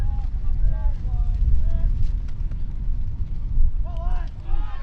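Strong wind rumbles and buffets a microphone outdoors during a high school football game, low and continuous, with a distant voice and faint whistles or calls over it.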